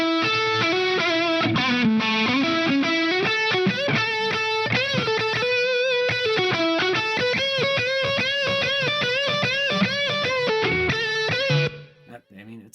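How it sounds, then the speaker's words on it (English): Guitar solo drenched in echo and distortion, a steady run of sustained, bending lead notes over a full band for about eleven seconds before cutting off abruptly near the end. "it's a solo with an echo on it"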